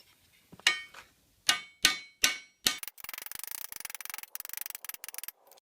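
Hammer beating out a metal part from a Series 1 Land Rover 109: several loud, spaced ringing blows, then a fast run of lighter, rhythmic taps, close by with no talk.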